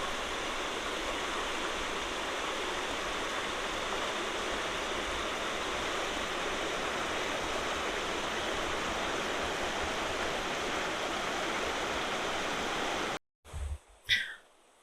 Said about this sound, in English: I'm going to show you down by the river,